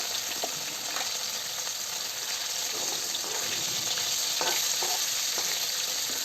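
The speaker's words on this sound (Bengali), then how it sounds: "মাছটা ভেজে নিচ্ছি।" Rohu fish pieces frying in hot oil, a loud, dense, continuous sizzle and crackle close up, steady throughout with no talk.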